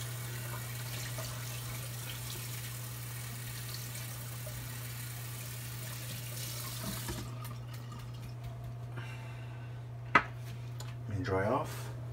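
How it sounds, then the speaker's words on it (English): Water runs steadily from a sink tap throughout as a shaving brush is rinsed beneath it, a constant moderate flow with a faint hum underneath, broken near the end by a sharp knock and a brief squeaky rubbing. "Rinse off the brush real quick."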